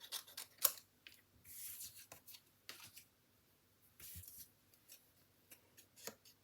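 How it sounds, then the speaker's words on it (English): Scissors snip by hand through stamped paper, cutting out a butterfly shape in a crafting setting; faint, intermittent cuts and rustles with short pauses between them. "I don't mind cutting. The die does plenty good, but when you see how close I get, it just for today's project, I think it's better to hand cut."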